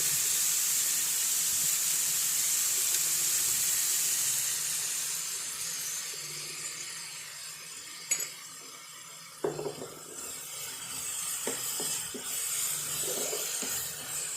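A soft sizzle of vegetables sautéing fades over several seconds, followed by scattered clinks and scrapes of a utensil stirring in a pan, fairly quiet and without talk.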